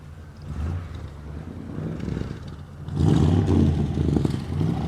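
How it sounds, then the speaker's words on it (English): A 1972 Cadillac Eldorado engine revs nearby, a low rumbling drone that rises noticeably in loudness about three seconds in and stays raised, with no talk over it. "Okay, Brian, rev the engine for me, sir."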